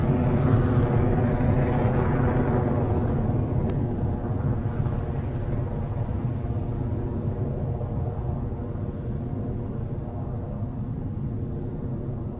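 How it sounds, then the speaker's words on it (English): Rocket Lab's Electron rocket lifting off from the pad at Launch Complex 1, a continuous heavy rumbling roar that holds steady and slowly softens, with no voices. "a beautiful liftoff of Electron from the pad at Launch Complex 1"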